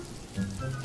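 Steady rain patters on a surface, a soft continuous wash with a slightly louder swell partway through.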